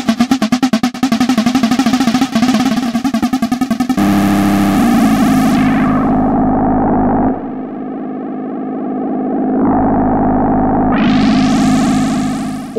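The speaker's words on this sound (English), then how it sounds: "All the sounds in this track you can hear have been made exclusively with Enkl CM." Demo track built entirely with the Klevgränd Enkl CM synth plugin: loud, dense distorted synth layers with a rapid pulsing opening, then sustained buzzing drones and sweeping filtered tones, alone without any talk.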